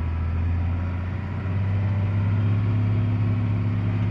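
A video game tractor's steady low engine drone hums continuously with the PTO engaged, gradually rising slightly in pitch as the revs build, with no voices present.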